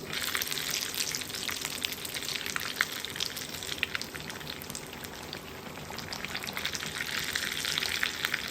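Pirozhki frying in hot oil, a dense, steady crackling sizzle with bright popping spatters throughout, close and moderately quiet, no voices.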